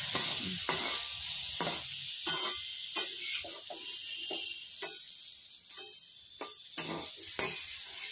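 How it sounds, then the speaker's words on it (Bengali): Turmeric and chopped ginger stirred in a frying pan for a pea and potato dish, a continuous bright sizzle broken by regular scraping strokes of the spatula, close and fairly loud. "হ্যাঁ দিয়ে হলুদটা নাড়িয়ে দাও"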